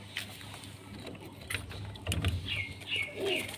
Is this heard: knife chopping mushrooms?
no